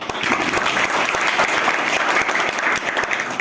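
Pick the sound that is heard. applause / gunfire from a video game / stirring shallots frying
applause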